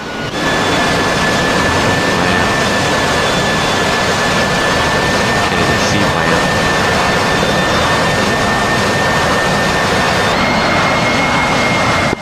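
Military jets come in to land in the flight combat game DCS World, a loud, steady roaring turbine drone with a high whine, sustained throughout at close range and without any talk.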